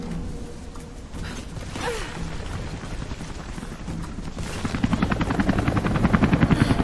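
A helicopter in the video game Rise of the Tomb Raider makes a steady, loud rotor drone with mechanical whirring and creaking. The chopping rhythm grows stronger and more distinct toward the end, with no talking.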